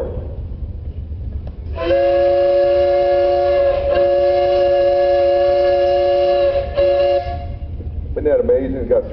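A three-chime steam engine whistle at a steam threshers' parade sounds one long, loud, steady harmonic blast of about five seconds with a brief break near the end, over outdoor crowd noise and a short voice afterward.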